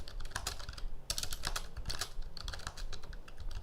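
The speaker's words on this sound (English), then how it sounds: "I hope I'm not typing that loud." Computer keyboard typing, close and steady, a rapid patter of keystrokes with a brief pause partway through.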